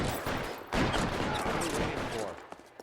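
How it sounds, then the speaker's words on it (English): Dense video game gunfire rattles in bursts under a busy mix, with repeated sharp reports layered over other game noise and a voice speaking through it. "Why am I being shot?"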